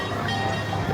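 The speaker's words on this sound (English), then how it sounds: "I call it the electric train because it's electric." An electric amusement park train passing at night, a steady close rumble with a faint hum and no talk.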